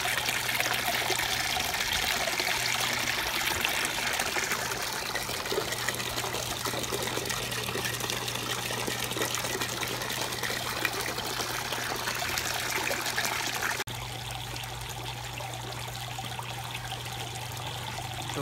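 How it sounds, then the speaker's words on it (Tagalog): Water flows steadily into the bucket of an under-tank aquarium sump, a constant close trickling and gushing stream with no talk that drops slightly in level near the end. "mas malakas yung flow niya kasi yung timba, ang level ng tubig hindi bumababa"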